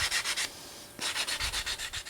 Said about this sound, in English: So I'll start off with a 120 grit sanding block.